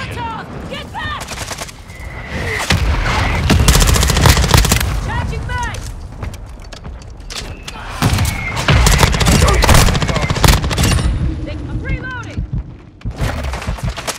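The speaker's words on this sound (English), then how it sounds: "Taking effective fire!" Gunfire in Call of Duty: Modern Warfare 2 multiplayer, with repeated rapid automatic bursts and sharp single shots, some near and loud, others further off, mixed with game voice callouts and chatter.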